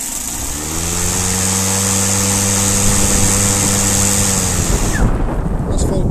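A Husqvarna LC551iv battery lawn mower's electric motor runs at full power with a loud, steady hum, then cuts out abruptly near the end.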